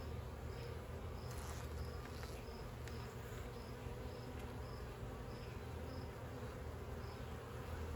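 Honeybees hum steadily during a hive inspection, a faint, continuous buzzing drone with a few individual bees passing close and no talking.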